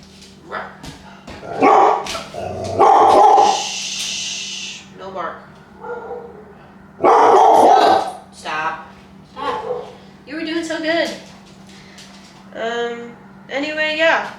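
A dog barks indoors in a house, giving several sharp, loud barks and yips in bursts, mixed with a person speaking softly to it in between.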